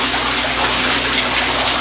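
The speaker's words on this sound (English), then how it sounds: "what it looks like when the fountain pumps are running at full capacity" Pond fountain pumps running at full capacity send a steady, loud rush of splashing water, continuous and broadband with no pauses, close by and with no voices.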